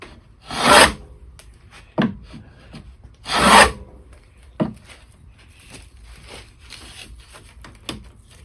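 Stanley #46 combination plane taking thick, heavy shavings along the grain of a wooden board: two loud rasping strokes with a few sharper knocks and scrapes between them, close and alone.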